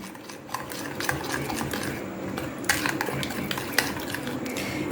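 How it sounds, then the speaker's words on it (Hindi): Spice paste with red colouring mixed in a bowl for a chicken steam roast, a close, quiet, continuous scraping and rubbing of a spoon with a few sharper clinks against the bowl. "इन सबको अच्छे से मिक्स करेंगे।"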